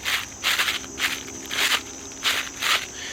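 A Tree Thrasher deer call imitates a buck thrashing trees and leaves, giving a series of rough, scraping rustles in uneven bursts, close and fairly loud over a steady outdoor insect hum.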